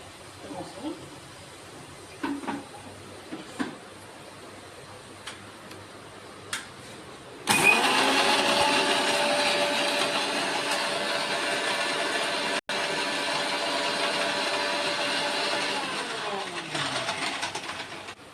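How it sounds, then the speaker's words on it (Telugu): A kitchen mixer grinder whirs loudly as it grinds coconut masala for egg curry, starting abruptly after a few faint clicks and running as a steady motor drone with a short break before winding down. "మిక్సీకి వేసుకొని వస్తానండి."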